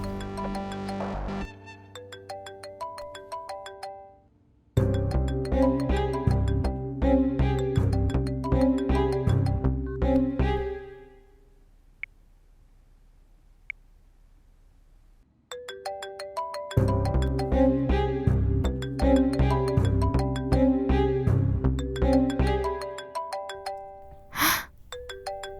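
A phone ringtone plays a repeating melodic tune for an incoming call, loud and close, pausing for a few seconds before starting again, with a brief high chime near the end.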